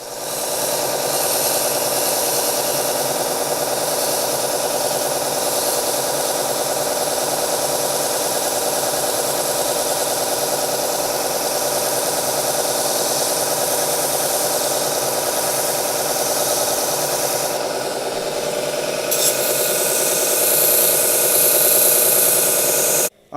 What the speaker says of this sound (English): So back to the sander.